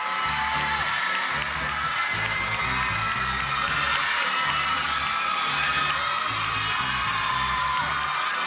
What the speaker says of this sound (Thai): แฟนคลับใครนะครับก็กรี๊ดกันได้เลย เพราะเขาคือ ปุ๊กลุกฝนทิพย์นะครับ